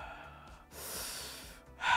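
A voice imitates slow, deep breathing, drawing in a long breath and letting it out steadily, close and breathy, ending in a sharper, louder exhale.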